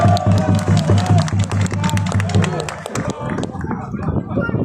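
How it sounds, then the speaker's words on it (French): Crowd at an outdoor giants parade in northern France applauding a young tango player, with broad clapping and cheering swelling over a steady low drone of music, then the music cuts out and a lighter scattered applause and chatter continue. "On peut l'applaudir, le petit joueur de tango"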